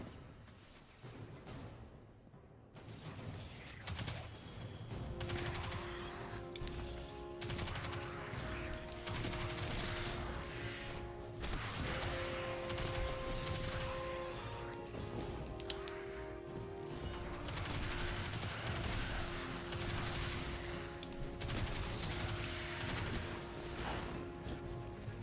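Sustained gunfire from a weapon fired from the hip in the video game Destiny 2, a dense and continuous rattle of shots mixed with impacts and game effects, loud and steady throughout with no voices.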